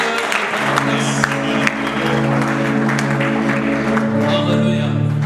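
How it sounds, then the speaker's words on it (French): A church congregation applauds and cheers during a service, dense close clapping held steadily throughout with voices mixed in. "Nous acclamons très fort le Seigneur."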